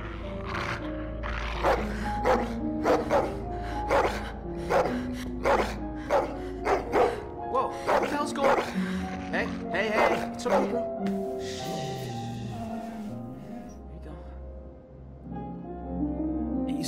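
Dog barking in the video game The Walking Dead: The Telltale Definitive Series, a run of loud, rhythmic barks and growls with a low rumbling backdrop, fading into quieter ambience near the end.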